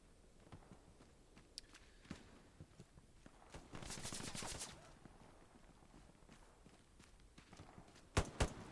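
Gunfire in the Hell Let Loose infantry-only match: scattered distant shots and a sustained burst of automatic fire in the middle, then a couple of sharp, louder close shots near the end.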